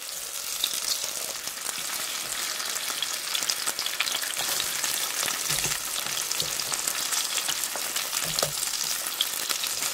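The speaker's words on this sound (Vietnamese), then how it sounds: "mình cho vào chảo 3 muỗng canh dầu và mình cho hành tây vào áp chảo cho thơm" Onion slices sizzling and frying in three tablespoons of hot oil in a pan, a steady, dense crackle that continues throughout.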